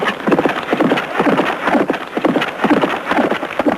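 Horse hooves galloping during yabusame, Japanese mounted archery, a quick steady run of thudding clip-clop beats, fairly close and loud, with no talk over it.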